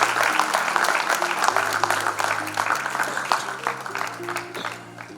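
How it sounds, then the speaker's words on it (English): Audience applause at an airline training college graduation ceremony, a steady wash of clapping lasting several seconds, fading slightly toward the end, with tonal music or voices underneath. "Come on everybody, another round of applause."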